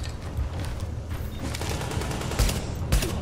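Sustained bursts of gunfire in the Tom Clancy's The Division video game, dense rapid shots blending into a continuous rattle with a few louder reports standing out, no talk over it.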